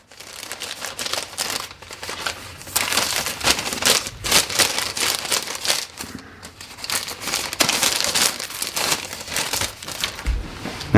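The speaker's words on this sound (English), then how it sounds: "So that comes in a nice plastic slip." Crinkling plastic slip around a women's clutch with a bronze-colored clasp, handled continuously up close, steady crackly rustling with brief pauses.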